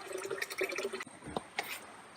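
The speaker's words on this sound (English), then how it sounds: "You can see the water, see how it's pumping?" Water pumps into a caravan's tanks on a family trip toward Cape York, giving close splashing and gurgling with a few sharp drip-like bursts over a couple of seconds, no talking.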